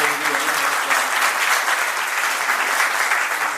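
Loud, dense applause from an audience at an HRAI awareness program in Moradabad, many hands clapping in a steady continuous roar for several seconds.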